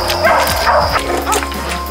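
Newborn puppies from a litter of three give high, close yips and small whimpers in quick bursts, with faint voices of people nearby.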